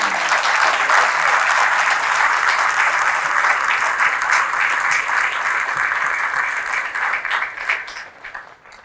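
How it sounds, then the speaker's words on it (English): A large crowd at a Marine Corps recruit graduation at MCRD San Diego gives sustained, loud, dense applause for the families of Alpha Company, holding steady before tapering off at the end. "So please join me in a big round of applause for the families of Alpha Company."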